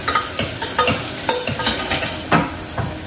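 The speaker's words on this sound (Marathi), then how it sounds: "कुकरमध्येच फोडणी देते" Spices crackle as they are tempered in hot oil inside a pressure cooker, the nearby sizzle marked by repeated sharp stirring scrapes and clinks in an irregular rhythm, with no one speaking.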